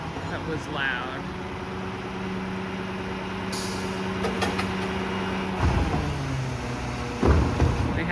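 A Waste Connections of Canada garbage truck works a residential street emptying blue plastic carts, its engine droning steadily with a hiss of air and clunks of the lift mechanism, while a person talks over it.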